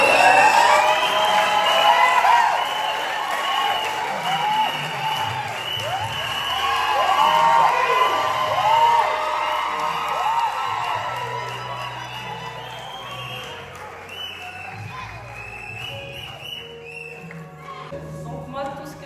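Wedding guests at a church nuptial blessing cheer and applaud loudly and steadily, with whoops and shouted voices rising over dense clapping for the full stretch.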